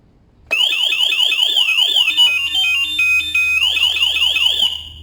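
A Zontes Mantis 125 cruiser motorcycle's alarm blares loud and close, a rapidly warbling electronic siren sweeping up and down, shifting into steady beeping tones midway, then returning to the sweeping wail.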